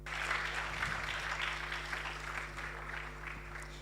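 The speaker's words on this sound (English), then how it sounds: "With a resounding word of applause, please let's welcome Mr. Kwesi Hayford." An audience at a Girls in ICT event applauds, a soft, steady wash of clapping from a crowd heard at moderate distance for a few seconds.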